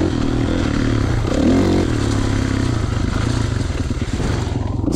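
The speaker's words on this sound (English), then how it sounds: "Another ride from the Ponds. 2016 KX450." A 2016 Kawasaki KX450 dirt bike being ridden at Hoover Ponds, its loud close engine droning and revving steadily while gear clatters and rattles throughout.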